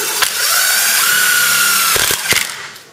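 A power driver sinks a 1.5-inch FastCap metal tapping screw while a fence system is put together, giving a loud, close, steady whine for about two seconds that ends in a few sharp clicks and knocks.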